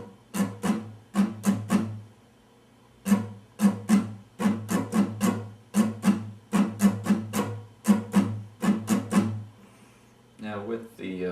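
Muted guitar strings strummed in the rhythmic down-up pattern for a song, giving crisp, percussive scratches in repeating groups with short pauses. Each pass is clear and close, and a voice starts briefly at the end.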